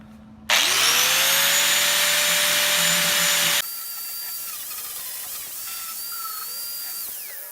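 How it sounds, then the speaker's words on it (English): An angle grinder fitted with a flap disc whines up loudly and grinds steadily for about three seconds, stripping paint and rubber undercoating from a VW Beetle rear quarter panel, then a quieter tool whine continues with shifting pitch. "So I got my grinder, and I put this flapper disc on it."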